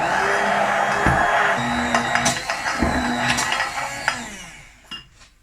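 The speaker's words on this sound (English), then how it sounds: "I'm gonna blend this through quickly" A blender whirring through a vegan egg mixture, a loud close motor drone with rattling and knocking pulses that winds down near the end.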